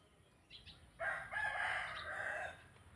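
A few quick clucks, then a loud rooster crow rising and holding for about two seconds, close by, with no talking.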